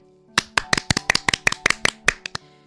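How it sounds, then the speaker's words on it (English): Hands clapping in a steady counted run of about a dozen sharp, close claps, evenly spaced, with no talk over them. "3, clap."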